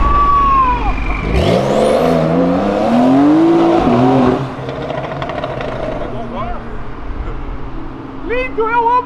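A Lamborghini SVJ sports car revs hard on a city avenue, its loud engine climbing and falling in sweeping pitch over several seconds, with excited voices shouting and talking over it nearby.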